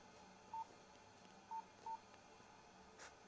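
Short electronic keypad tones from a Nokia phone beep three times while typing, clean single notes, fairly quiet over a hushed background, followed by a faint click.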